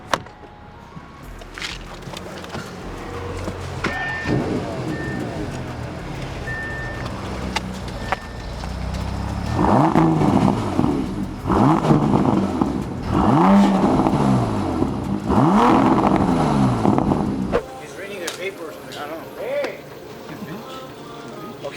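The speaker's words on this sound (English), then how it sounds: "Let's start it up." A satin-black Bentley Flying Spur with a custom exhaust fires up in a shop. Loud, rumbling rev bursts come in several pulses, then stop abruptly, with people talking around the car.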